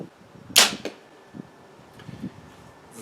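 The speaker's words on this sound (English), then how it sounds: "Incredibly loud bow." A Mandarin Duck Glory compound bow looses a heavy gold-tip arrow with a single sharp, loud release crack followed by brief string and limb rattle, then quieter thumps.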